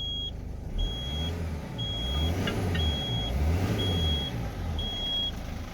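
A Mercedes Sprinter van engine revving after an accelerator pedal replacement, its low rumble swelling and easing in repeated waves close by, while a thin electronic beep sounds at regular intervals.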